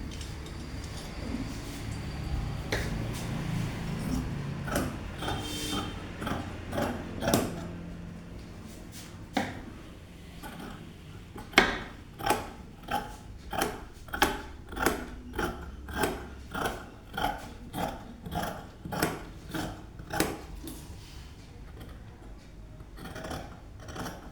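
Scissors cut fabric for a princess-line gown, starting with irregular snips and then a long run of steady, rhythmic snips close by, with no talking.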